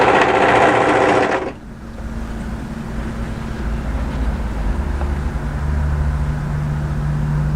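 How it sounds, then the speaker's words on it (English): An overlocker serges the side seam of a pleated maxi wrap dress, a loud steady rapid whir for just over a second that stops abruptly, leaving a low hum of room noise. "And now we're going to overlock up the side."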